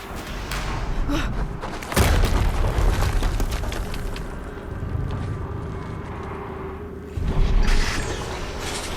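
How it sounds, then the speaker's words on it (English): In the video game Horizon Zero Dawn Remastered, deep booming explosions erupt twice amid a rumbling, noisy battle din, loud and heavy with low-end thuds, and no voices are heard. "Another explosion."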